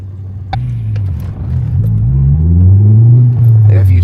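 A car fitted with a differential pin mod vibrates in first gear, a loud close low drone and rumble that swells and climbs in pitch, with brief clatter.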